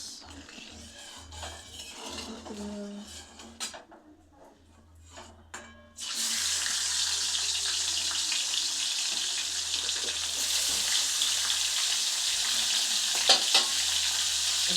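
Fish and green banana fry in a pan at home, a loud, steady sizzle starting abruptly partway through and continuing to the end, with quieter kitchen clatter before it.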